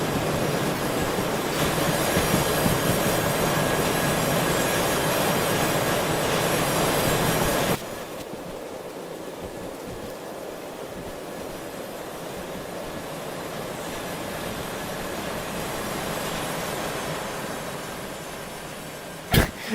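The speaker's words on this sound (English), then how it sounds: "How fast is this train going?" A train runs on rails in the VR game Derail Valley, a loud steady rolling roar with wheel squeal that cuts abruptly to a quieter rumble midway, ending with a sharp thump.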